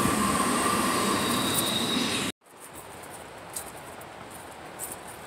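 A train rolls along railway tracks near a river bridge, a loud continuous rumble with high wheel squeal that cuts off abruptly, followed by a quieter steady rolling clatter with faint squeaks.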